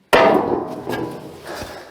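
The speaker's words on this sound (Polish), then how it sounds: "rozciągali ją za pomocą młotka jeszcze przez kilkanaście minut" A single sharp metallic hammer strike on sheet metal being stretched rings out, followed by a couple of softer knocks as the ringing fades.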